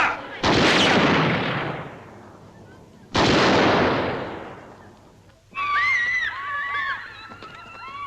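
Gunfire in a 1955 film: two loud, reverberant shots crack out about three seconds apart, each decaying slowly, followed by a noisy burst with a high whistling, warbling cry over it.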